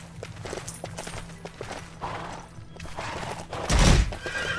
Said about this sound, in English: this is a horse